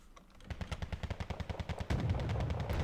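Rapid automatic tank gunfire in the Wargame Red Dragon strategy game, an M84AN firing on infantry: a fast regular burst of sharp cracks building up, then a denser, louder rumbling volley near the end, with no talking.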